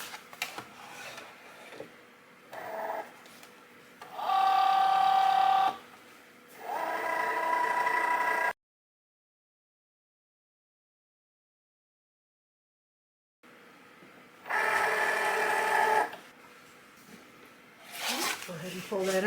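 A Cricut cutting machine slicing white and black vinyl on a cutting mat, giving bursts of whirring, buzzing motor movement in several stop-start passes with a silent gap in the middle, close and fairly loud.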